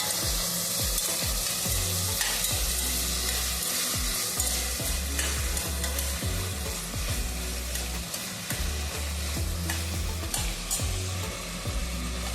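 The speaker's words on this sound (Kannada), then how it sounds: "ಟೊಮೆಟೊ, ಕೊತ್ತಂಬರಿ ಸೊಪ್ಪನ್ನು ಕೊನೆ ಬಾರಿಗೆ ಯೂಸ್ ಮಾಡೋಣ. ಇದೆಲ್ಲ ಕೂಡ ಸ್ವಲ್ಪ ಹೊತ್ತು ಬಾಡಿಸ್ಕೊಳ್ಳೋಣ" Tomato and coriander leaves sizzle and fry steadily in a hot pan for bisi bele bath, with repeated scraping stirs cutting through the continuous crackle, close and fairly loud, no voices.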